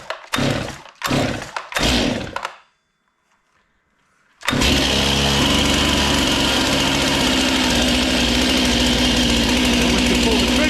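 A cold Stihl MS261C M-Tronic chainsaw with a decompression valve is pulled several times in quick rasping bursts. After a short silence it starts and runs at a loud, steady, buzzing drone.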